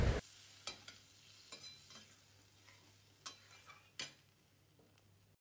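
Hilsa fish bone curry with rice and water being stirred over a low-to-medium flame, quiet scattered scrapes and clinks of a utensil against the pan over a faint low hum, with no voices.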